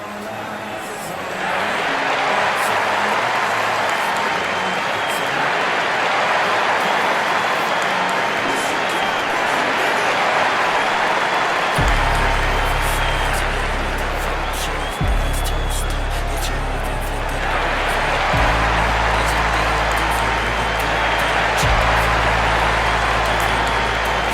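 Crowd cheering in the WWE 2K25 wrestling game at an arena in New York City, a steady loud roar of many voices throughout, later joined by a low pulsing entrance beat underneath.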